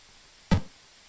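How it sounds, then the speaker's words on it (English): Crowd noise sample from the 1989 Kick Off football game on the ZX Spectrum: a single short, loud burst of harsh noise lasting about a fifth of a second, standing alone against a faint background hiss. "I think that's meant to be a crowd noise"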